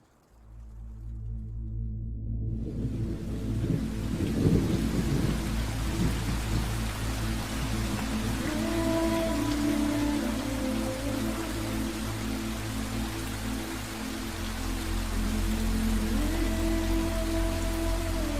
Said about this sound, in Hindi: जोरदार बारिश हो रही है